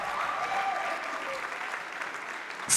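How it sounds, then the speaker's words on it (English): Steady applause from an event audience after a panel speaker is introduced, sustained and fairly close throughout, with a brief louder burst at the very end. "Please let's clap for him."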